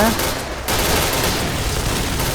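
Rapid bursts of gunfire ring out in an online shooting video game, with dense overlapping shots that dip briefly and then resume at full volume.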